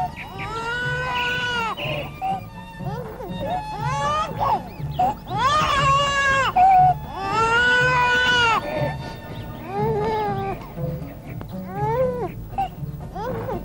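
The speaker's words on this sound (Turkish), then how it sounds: "Bir çocuk ağlaması duydum" A baby cries in repeated loud, wavering wails with short breaths between, over a steady low backing, in a scene from a 1986 Turkish comedy film.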